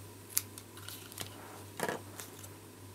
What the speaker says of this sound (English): use my ribbon scissors to cut this off